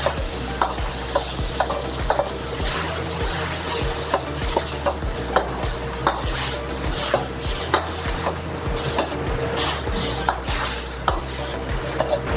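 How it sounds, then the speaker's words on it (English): Rice noodles with white pepper, soy sauce and oyster sauce are stir-fried and tossed in a pan, a steady sizzle broken by regular scraping clacks of the utensil against the pan, close and loud with no talking. "white pepper, soy sauce, oyster sauce, and give it a toss."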